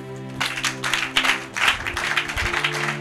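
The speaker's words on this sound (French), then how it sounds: "Quelqu'un acclame le Seigneur." A church congregation at a Bible study claps and cheers in praise of the Lord. The applause is dense and steady, with a few louder swells, and a low hum runs underneath.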